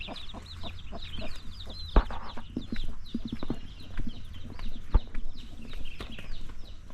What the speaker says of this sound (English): Oh, that's some of the chickens.